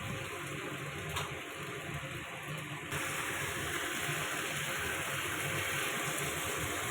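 Water poured from a tap or jug into a pan of mixed vegetables, a steady continuous gushing rush that grows slightly fuller partway through, close and moderately loud, with no speech.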